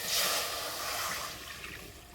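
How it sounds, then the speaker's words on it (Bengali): Water is poured into a wok, a soft, close splashing rush that is loudest at the start and tapers off over a couple of seconds, with no talking. "এই কড়াইয়ে দেব জল।"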